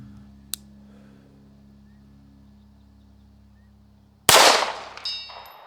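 A Staccato P pistol fitted with a Vulcan Machine Werks Ignis port fires outdoors at long range, one sharp crack after a long quiet stretch, with a faint earlier click and the report decaying into a brief echo.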